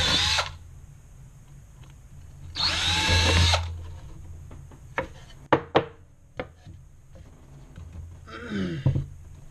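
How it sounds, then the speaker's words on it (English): A power drill spins twice into soft wood while driving sheetrock screws, each whirring run a few seconds long, followed by knocks and handling clatter on a wooden rack. "I'll drill the other 2 pilot holes and drill the rest of it in."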